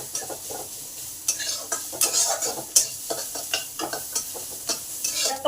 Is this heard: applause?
no